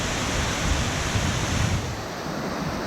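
Water cascades down a waterfall in North Carolina as a steady, loud, close rushing roar that continues without voices.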